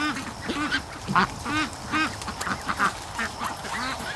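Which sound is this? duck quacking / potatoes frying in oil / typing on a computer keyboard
duck quacking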